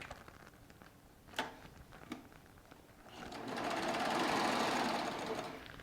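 A Baby Lock Triumph serger running a 3-thread narrow rolled hem: a couple of faint taps, then a steady, whirring stitching burst of a few seconds, fairly quiet and close.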